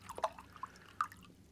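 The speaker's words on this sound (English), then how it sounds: "if I take this little mug here and I pour the water out into it" Water poured from a bottle into a small mug, heard as a quick run of close, light drips and splashes, soft and brief in a quiet room.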